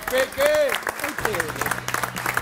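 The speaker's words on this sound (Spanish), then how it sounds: "Mirá atrás cómo lo aplauden" An audience applauds an eliminated contestant on a televised cooking competition, clapping rising under loud shouting and cheering voices.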